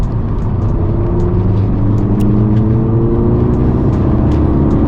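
A VW Golf GTI MK6 two-door accelerates hard through its gears, the engine note climbing steadily and loud with rising whine and brief drops at each shift, heard from inside the car.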